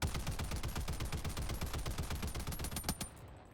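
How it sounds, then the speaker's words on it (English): Sustained automatic gunfire from the Reprimand weapon in Helldivers 2, a rapid even stream of sharp shots for about three seconds, loud and close, then cutting off into a brief tail, with no voices. "Now I'm going to be shooting the gun, and I'm not going to be controlling it at all."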